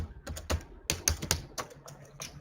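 Quick typing on a computer keyboard, with clusters of sharp close key clicks in an uneven rhythm and no voices.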